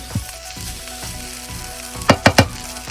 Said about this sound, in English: you want to get in there with that spatula and aerate the rice